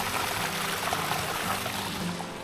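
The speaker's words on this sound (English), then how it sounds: "Like up here on this stream, fill it right from the source." Water from a mountain stream pours and trickles into a LifeStraw bottle during a trek to Tulian Lake in Pahalgam, Kashmir, a steady close gurgling stream that fades slightly toward the end.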